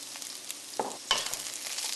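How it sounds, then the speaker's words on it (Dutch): Potatoes, green beans and sliced mushrooms stir-fried in a wok, giving a quiet sizzle with a few brief scraping stirs. "Nu begin je te roerbakken."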